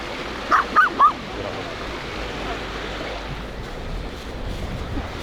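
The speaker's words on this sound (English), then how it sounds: "That dog's well cute." A dog in Užice, western Serbia, barks three times in a quick early burst, then falls silent over a steady outdoor background hiss.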